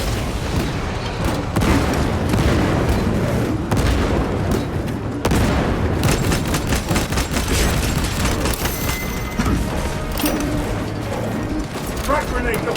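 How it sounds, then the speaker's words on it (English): Frag grenade explosions and relentless gunfire from the Space Marine 2 video game form a loud, continuous barrage of booms and rapid shots, with in-game voices shouting over the combat. "Frag grenade deployed!"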